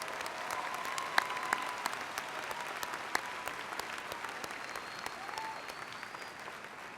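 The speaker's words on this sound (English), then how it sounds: "Will the audience please join me in applauding these honors graduates?" Audience at a university spring commencement applauding the honors graduates, a sustained moderate clapping crowd with scattered sharper claps standing out, steady throughout.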